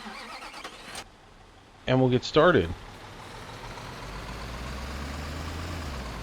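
A truck engine in the Construction Simulator 2015 video game cranks and starts with a brief whine, then settles into a steady low idle, after a man's short spoken remark.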